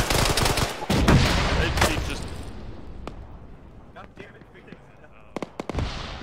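Gunfire in the military shooter Arma during a ShackTac squad session, sharp shots and bursts crackling loud at first and then more sparse, with a voice talking over them.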